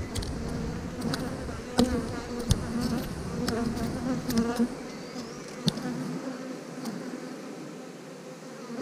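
Honey bees buzz in a beehive box, a dense continuous hum close by with scattered louder flyby tones, and a brief murmured voice in the middle.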